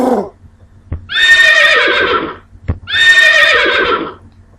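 Two loud, close horse neighs from an animal sprite in a Scratch project, each a shrill whinny lasting about a second, separated by short pauses with soft clicks.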